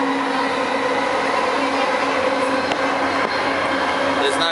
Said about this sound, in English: So we're on the train in KL, and if you'd notice that it's pretty clean.